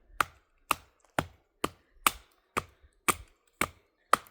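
A Demko Freereign knife with an AUS10A steel blade and saber grind chops through a piece about 3/16 inch thick, giving nine sharp, evenly spaced cutting thuds, close and crisp, with no talk.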